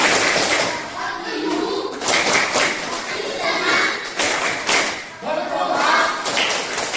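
Schoolchildren in a classroom chant a rhythmic clapping routine at the end of the day, bursts of claps and thumps in a pulsing beat mixed with loud young voices.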